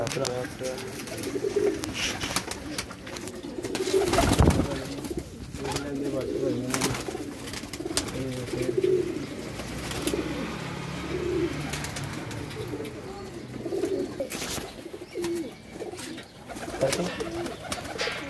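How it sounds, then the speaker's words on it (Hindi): Pigeons coo repeatedly in soft, rhythmic bursts close by, mixed with rustling, thumps and occasional voices talking. "एक ये आ गया कबूतर,"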